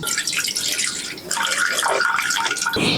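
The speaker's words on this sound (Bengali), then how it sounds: "এখানে আরও এক লিটার দুধ নিয়েছি দুধটাকে ছেঁকে নেব" One litre of cow's milk, for rasmalai, is poured through a strainer in a village kitchen. A steady, close splashing trickle runs for about three seconds, with a brief dip in the middle.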